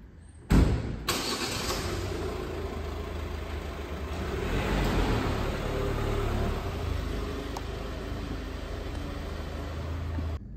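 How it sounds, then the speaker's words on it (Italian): A 2020 Ford Kuga 1.5 EcoBlue diesel with two-wheel drive starts up with a sharp click and crank, then settles into a low, steady idle heard from inside the cabin, swelling slightly midway. "E adesso salite in macchina insieme a me, andiamo anche a fare un giro di prova su strada"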